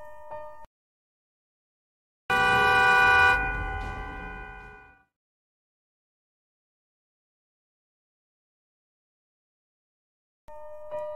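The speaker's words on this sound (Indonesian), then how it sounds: "kakak ipar Jung menekan klakson sehingga kedengaran ke seluruh kota mati tersebut" A car horn blares in one long, loud honk lasting a few seconds, between brief electronic tones at the start and end, in a scene from a Korean zombie film.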